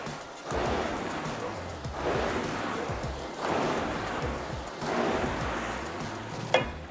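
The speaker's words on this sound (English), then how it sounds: "obviously this is a water rower, so it's probably gonna be a little louder than one with electromagnetic resistance" A water rower's resistance tank sloshes and swooshes in four regular surges, one with each rowing stroke, steady and close with a small knock near the end.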